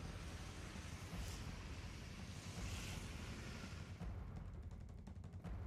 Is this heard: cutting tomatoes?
no